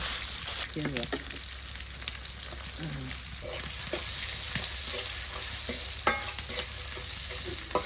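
Shrimp frying in a pan with five-spice seeds, a close steady sizzle with repeated scraping and stirring strokes from a spatula throughout.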